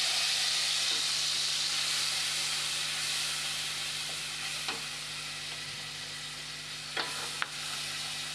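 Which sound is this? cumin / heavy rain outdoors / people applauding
cumin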